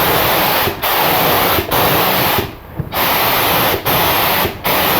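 An HVLP gravity-feed paint spray gun hisses loudly in steady bursts, the trigger released briefly between passes to leave short gaps, five or so sprays in a row at close range.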